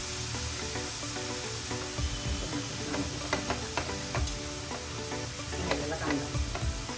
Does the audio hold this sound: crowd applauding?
no